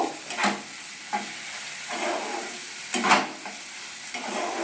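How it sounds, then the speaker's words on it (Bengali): A spice masala for a paneer dish cooked without onion or garlic sizzles gently in a pan as a spatula stirs it in slow, regular scraping strokes, with no talking. "আমি মশলাটাকে খুব ভালোভাবে কষিয়ে নিচ্ছি"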